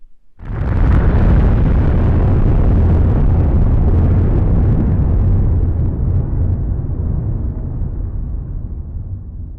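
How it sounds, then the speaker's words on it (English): A massive atomic bomb explosion bursts out after a brief pause, then rolls on as a loud, sustained roar that slowly fades over several seconds. "The first one being an atomic bomb explosion that Fiona mentioned."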